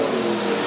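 A sprint car engine screams at high revs on a dirt race track, a loud, sustained buzzing whine held steady through the whole short moment.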